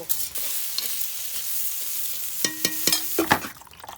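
Vegetables for bhorta frying in a pan make a constant hiss, then a quick cluster of sharp spatula scrapes and knocks against the pan near the end, close by with no voices.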